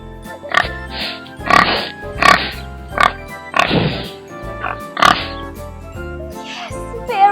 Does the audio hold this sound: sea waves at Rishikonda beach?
no